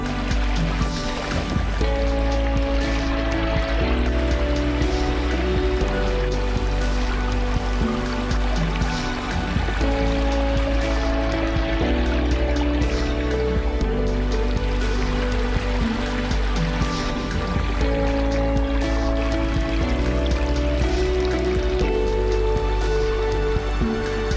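A small man-made waterfall in a landscaped fountain feature splashes steadily into a crystal clear pond, a continuous close rush of falling water with no talk.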